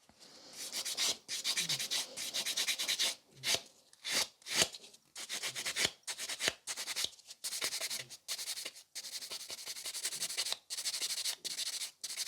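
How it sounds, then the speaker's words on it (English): A nail buffer rubs over sculpted fiber gel nail extensions in quick, close, scratchy strokes, repeated in bursts with short pauses between. "And we're ready for a buffing."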